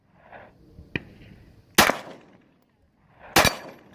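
Handgun shots at an outdoor shooting range: two sharp, loud close reports about a second and a half apart, with a fainter click just before and distant murmuring between shots.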